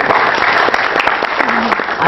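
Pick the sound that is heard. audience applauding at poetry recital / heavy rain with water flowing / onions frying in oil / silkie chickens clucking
audience applauding at poetry recital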